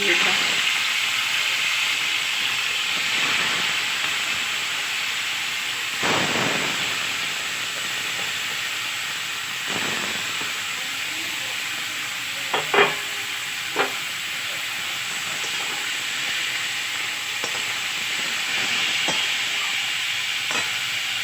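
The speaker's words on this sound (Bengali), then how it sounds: "জিরে তেজপাতা ফোড়ন দিয়ে দিয়েছি মোচাটা" Chopped banana flower fries in a little white oil tempered with cumin and bay leaf, giving a steady close hiss and sizzle with occasional stirring clatters, while a voice speaks intermittently.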